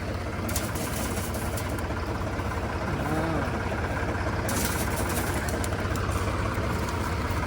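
A Mahindra tractor engine runs steadily throughout, a continuous low rumble that rises in intensity partway through as it is revved while hauling gravel on a rough farm track in Punjab.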